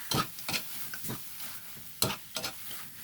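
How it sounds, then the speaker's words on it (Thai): Glass noodles and egg get stirred in a frying pan with a soft sizzle, a spatula scraping in irregular strokes, several close, sharp bursts of scraping and clatter over gentle frying. "พอใส่ลงไปคนไปคนมาเป็นอันเสร็จสิ้น"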